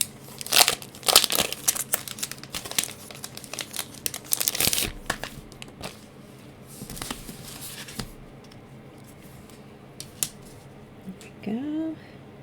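Scissors cut out a decorative paper frame card at close range in a crafting session, with irregular snips, crinkles and rustles of paper. A voice briefly speaks near the end.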